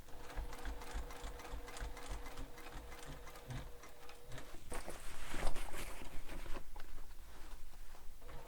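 Sewing machine stitching over earlier seams on a backpack, a steady close rapid run of needle strokes that swells louder partway through, with no voices.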